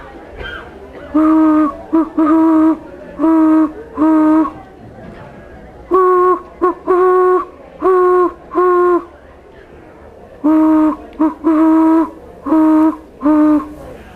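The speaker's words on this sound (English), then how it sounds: "What were those the sounds of? Owls." Repeated low, tonal hoots in rhythmic groups of three to five, loud and close, with short pauses between each series, like owls calling.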